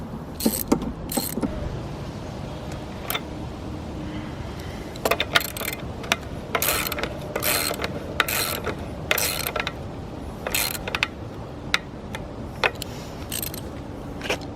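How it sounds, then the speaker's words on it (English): Ratchet wrench with a 3/4 inch socket tightening bolts while installing parking lot tire stops, giving repeated bursts of sharp clicking close by, with pauses between strokes and no talk. "And just wrench them down with the socket. It's a 3/4 inch socket on these."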